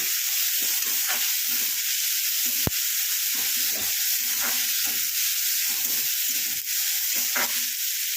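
Onion fries in oil with a tempering of curry leaves and mustard seeds, giving a continuous bright sizzle under repeated soft scraping strokes of stirring and one sharp tap, close and steady, with no talking.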